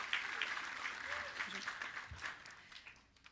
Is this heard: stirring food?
no